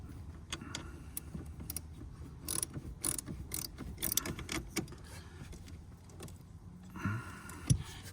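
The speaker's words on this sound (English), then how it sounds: "So you're loosening this nut right here, which is the one closest to you." Ratchet clicking and metallic tool handling as a battery hold-down nut is loosened on a Dodge Durango, with irregular close clatters and short bursts of mechanical rattle.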